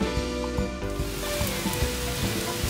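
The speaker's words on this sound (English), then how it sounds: "this gives you an idea of how strong the rains are and how strong the wind is also" Steady, dense hiss of heavy spring storm rain pouring down in Texas, with occasional soft thumps and gusty rushing wind underneath, no voices.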